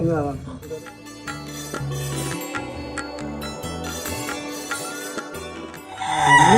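On a poultry farm, chickens cluck and a rooster crows amid a busy yard, with a person talking through much of it and a steady hum underneath.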